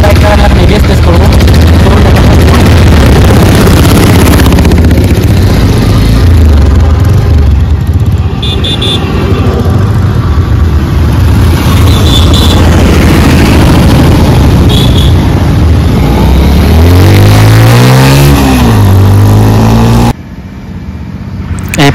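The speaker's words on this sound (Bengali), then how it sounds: "দেখতে পাচ্ছেন এর এবিএসটা আমি টেস্ট করলাম, খুবই ভালো কাজ করলো।" A Bajaj Pulsar motorcycle with ABS being test-ridden for braking: a close engine drone and road noise, with the engine pitch rising and falling near the end before dropping off sharply.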